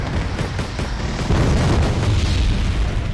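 Artillery shell bursting in the wargame Wargame: Red Dragon, a deep rumbling boom that swells louder midway and rolls on, heavy and low with no voices.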